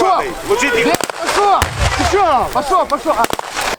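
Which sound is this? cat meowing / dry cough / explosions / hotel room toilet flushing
explosions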